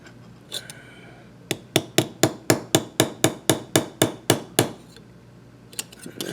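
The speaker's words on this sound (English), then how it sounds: "this needs a little more hammering" A spacer rivet is hammered by hand: a quick pair of taps, then about a dozen sharp metallic blows in a steady, even rhythm, loud and close, ending with a few lighter taps.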